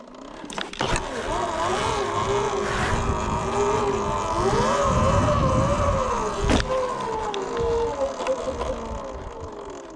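A Sur-Ron electric dirt bike riding a wheelie, its motor whine climbing and falling as the throttle opens and closes, with a rider's voice at times over it.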